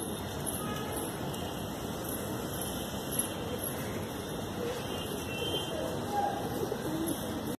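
A flock of desi high flyer pigeons in a Dombivali, Mumbai loft keeps up a low, continuous cooing murmur, moderately near and even in level, with faint background hum throughout.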